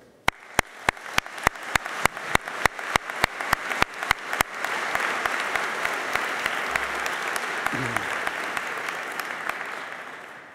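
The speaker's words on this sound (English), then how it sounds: "Please join me for a short applause." Applause at a university commencement ceremony during the rector's welcome: a few sharp, evenly spaced claps at first, then swelling into sustained, dense crowd clapping that holds steady to the end.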